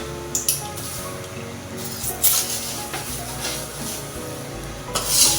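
Popcorn mixture with sugar being stirred and mixed by hand in a home kitchen, giving wet squishing and dripping sounds in an uneven rhythm over steady background music, close and moderately loud.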